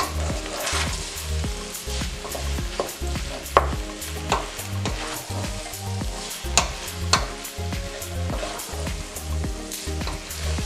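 Pesto pasta with bacon stirred in a pan as cheese melts, a spoon repeatedly scraping and knocking against the pan in a steady rhythm over a soft sizzle, with a few sharper clinks, close and without talk.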